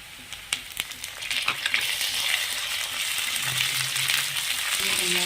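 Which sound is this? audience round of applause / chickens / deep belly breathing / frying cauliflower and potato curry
frying cauliflower and potato curry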